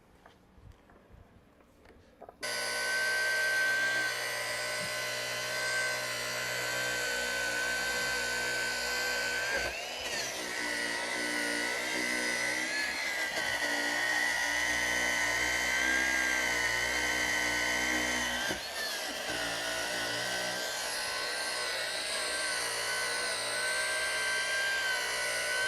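A polisher fitted with a 1-inch pad works cutting compound over an oxidized headlight lens. Its steady high-pitched whine starts after a brief quiet moment and holds for a long stretch, with slight dips as the pressure shifts.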